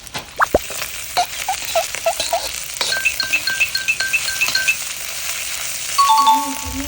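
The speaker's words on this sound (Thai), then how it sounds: "เราจะผัดพริกแกงกับหมูสามชั้นเนี่ยนะครับ" Red curry paste sizzles and is stir-fried with crispy pork belly in a pan, a loud hiss under repeated sharp metallic clinks and scrapes of a spatula against the wok, with a few ringing dings.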